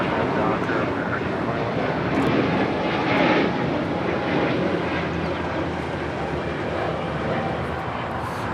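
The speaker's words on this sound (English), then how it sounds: "That is Spirit 888 departing to Columbus, Ohio on the A320 Neo." An Airbus A320neo operated by Spirit departs LAX, its engines producing a broad, steady roar that swells slightly and then holds, heard from a distance over constant airport ambience.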